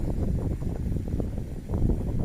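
Steady wind buffeting a microphone outdoors on a hike near power lines in Kippens, Newfoundland, a dense low rumble that gusts slightly without letting up.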